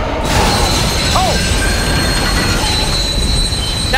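Metal train wheels squeal loudly and steadily with a high shrill ring over a dense rumbling roar inside a moving train in the video game Dead Space 2, close and continuous.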